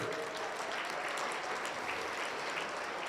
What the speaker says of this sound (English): a round of applause for all their hard work